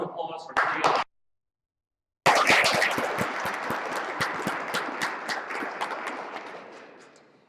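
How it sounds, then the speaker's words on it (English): Audience at an organizational leadership introduction breaks into a round of applause after a short burst of speech and a brief silence, dense loud clapping that gradually fades toward the end. "I ask please everyone join me in a round of applause for Mary Ann."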